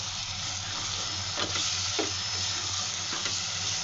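Fried arvi (taro root) and curd stirred into sizzling masala in a pan, with a steady close frying hiss and a few soft scraping stirs, no voices.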